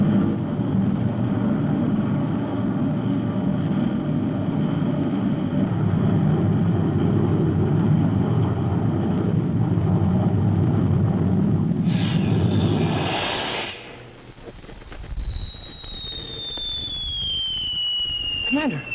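A science-fiction spaceship sound effect of a ship circling a moon: a dense, loud rumbling roar that cuts off and gives way to a high, steady whine slowly gliding downward.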